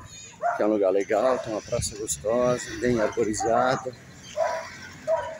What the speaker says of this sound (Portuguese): Olha o cachorro latindo.